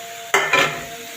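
Carrots stirred in a frying pan, with two quick scraping strokes of a utensil over a soft background sizzle, close and brief.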